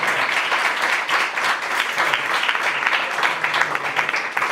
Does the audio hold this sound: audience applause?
yes